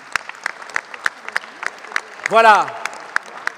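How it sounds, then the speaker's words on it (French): Sparse, distinct hand claps ring out at a civic New Year's greetings evening in Corbeil-Essonnes, a few sharp claps spaced out in a rhythm. Midway someone briefly speaks over them. "on peut applaudir les agents du service public"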